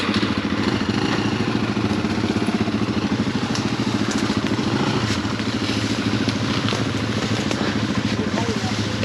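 Dirt bike engine droning steadily up close on an old overgrown trail, a rough continuous motor rumble with clattering over bumps, voices calling out intermittently over it.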